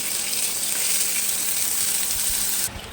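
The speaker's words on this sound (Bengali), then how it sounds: "এবারের মধ্যে দিয়ে দেবো আদা রসুন বাটা দিয়ে একটু ভেজে নেব" Chopped onion, green chilli and ginger garlic paste fry in hot oil in a pan, a loud, steady close-up sizzle that cuts off abruptly near the end, with no voices.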